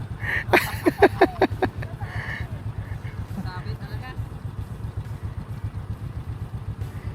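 A motorcycle engine idles and putters with a steady low rumble throughout, while clattering taps and a voice sound briefly near the start above it.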